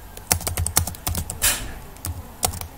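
Keys clatter in irregular bursts of typing on a computer keyboard, with a brief louder swipe midway, close and fairly loud with no talking.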